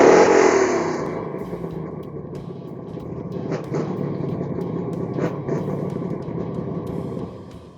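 Holden Torana LH Group C racecar engine with angry cams and a big dump pipe, revving hard and loud up close, then settling into a steady throaty idle-to-mid rumble that holds throughout.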